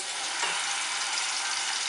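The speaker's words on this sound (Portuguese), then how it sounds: "meu óleo está super aquecido, eu vou colocar o arantino" Arancini rice balls fry in very hot oil, giving a loud, steady high-pitched sizzle that crackles continuously throughout with no talking.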